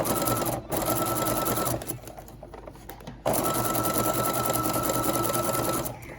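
Fabric and folded elastic feed through a sewing machine as it stitches a homemade filtered face mask. The motor hums steadily and close, with one brief dip and a short pause in the middle.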